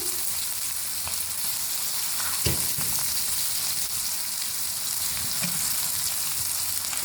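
Stuffed okra with masala frying in a pan on a low flame, a steady dense sizzle held close throughout with a couple of soft spoon touches, no speech.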